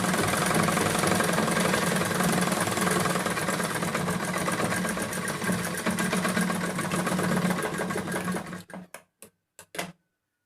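A sewing machine stitches the folded sleeve of a newborn baby's dress in a fast, steady, close mechanical whir that slows into a few separate stitches before stopping, with no voices.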